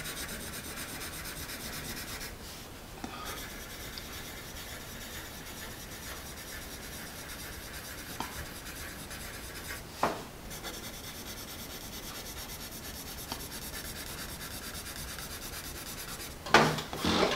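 Graphite scratching steadily from a Nataraj Marble pencil writing across paper, a soft continuous rasping rub close up, with a few faint taps and a brief louder scrape near the end.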